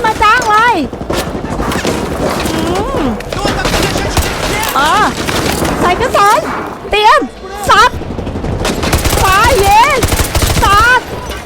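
Rapid automatic gunfire in Call of Duty Modern Warfare 2 Remastered, loud sustained bursts sprayed in quick succession, with excited voices talking and shouting over the shooting.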